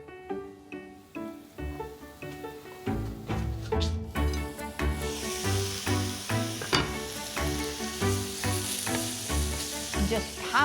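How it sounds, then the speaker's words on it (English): Onions sizzle and fry in a hot pan as a continuous crackling hiss, with scraping and stirring knocks that recur steadily throughout. "Throw 2 onions into the same pan so that they will absorb all the flavours."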